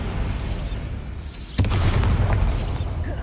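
A Bombarda spell explosion in the Hogwarts Legacy video game erupts midway as a sudden deep boom. A rumbling tail follows it over a steady wash of in-game background noise.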